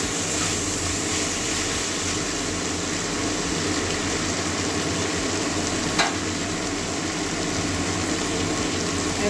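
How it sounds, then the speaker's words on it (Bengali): A katla fish head sautés in a pan with a steady, loud, even sizzle that holds for the whole stretch; a brief clink sounds midway. "মাছের মাথাটা আমার ভালো করে কষিয়ে নিয়েছি।"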